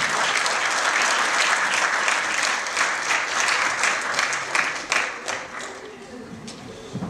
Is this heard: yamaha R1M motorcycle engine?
no